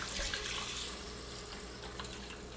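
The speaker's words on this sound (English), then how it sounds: "And then we're going to add 6 cups of filtered water." Filtered water pours steadily into a cooking pot, a continuous broadband rush of splashing liquid heard up close for a few seconds with no talking.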